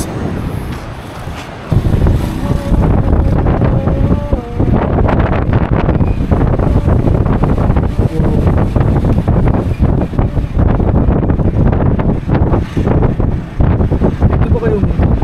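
Strong wind blows across the microphone on a year-end outing at Ditumabo waterfall in Baler, Aurora, a loud continuous buffeting roar with faint voices in the background.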